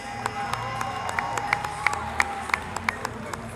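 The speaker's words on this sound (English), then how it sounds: "let's give a round of applause to these 2 outstanding athletes" An audience at a 2019 Cleveland Classic boxing event applauds two athletes with steady, moderately loud clapping and occasional sharper claps, heard from within the crowd.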